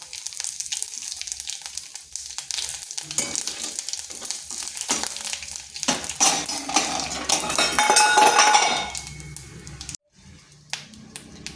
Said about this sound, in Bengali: ফোড়নে দিচ্ছি গোটা জিরা, শুকনো লঙ্কা আর একটা তেজপাতা।